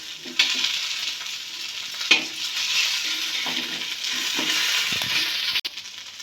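Baby potatoes frying in a pan for an Odia potato fry, a steady close hiss of sizzling oil with a few stirring scrapes and clinks, no voices.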